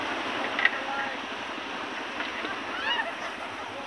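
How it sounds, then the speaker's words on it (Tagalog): Rough sea with wind, heard from the shore: a steady, hissing wash of waves and gusts, fairly faint, with no clear breaks between surges. "Medyo malalim at maalon."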